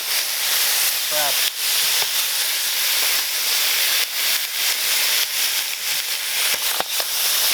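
Mud crab frying in hot oil with spices for a Keralan coconut curry, giving a steady loud sizzle and hiss throughout, with a few sharp clicks and clatters from the pan and a brief clink of utensils.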